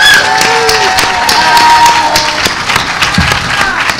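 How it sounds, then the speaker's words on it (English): An audience claps and cheers loudly at a locksport variety hour at a hacker conference, with whoops and shouts rising over the steady applause. "A big round of applause"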